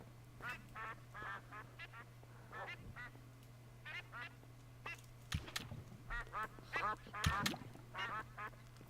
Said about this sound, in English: There's a chicken farm.